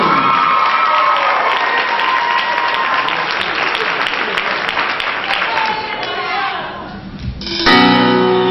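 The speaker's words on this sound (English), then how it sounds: "Let's have a big round of applause for Miss" An audience at a Black and Gold Idol 2010 singing contest bursts into loud, sustained applause and cheering, clapping and shouts filling the room close up, fading slightly before a sharp sound at the end.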